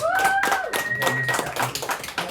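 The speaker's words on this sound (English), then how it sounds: "Big round of applause for Ryan, guys." Scattered audience clapping at an open mic comedy night in a Tralee bar, a few sharp claps mixed with a whistle-like tone and murmuring voices over a short stretch.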